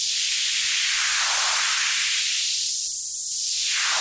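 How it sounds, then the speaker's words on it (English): In Ableton Live, a white noise filter sweep slides its cutoff down and then back up, ending with a downward turn. It is a loud, continuous hiss with no voice over it, like a tech house riser. "you might recognize that as like a white noise filter sweep you hear in tech house"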